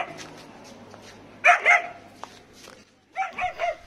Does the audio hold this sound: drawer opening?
no